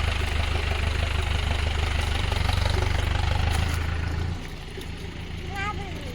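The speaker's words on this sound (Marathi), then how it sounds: "तिकडे बघते ट्रॅक्टर जाऊ दे तिकडे ट्रॅक्टर" A tractor engine idles close by with a steady, low, throbbing chug that eases off partway through; a voice is briefly heard near the end.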